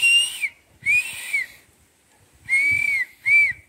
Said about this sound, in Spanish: Oigan cómo chifla el niño.